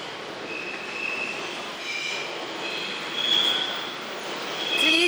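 A train passes through a station in Europe with a steady rumble and intermittent high-pitched wheel squeals, fairly close, without talk.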